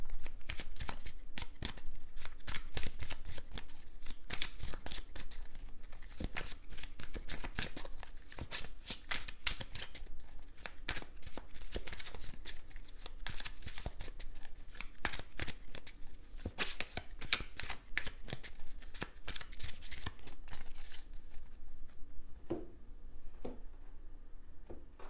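Tarot cards being shuffled and laid out, a long run of rapid, crisp riffling and flicking close up, with a few scattered taps and slaps near the end.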